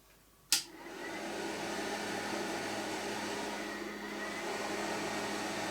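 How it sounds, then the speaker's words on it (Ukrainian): A Wimpex 5200W power inverter, powering a refrigerator, starts with a sharp click and then settles into a steady, even hum from its choke, with cooling fans whirring throughout at moderate level. "Якщо ви чуєте, дросель гуде. Працюють вентилятори"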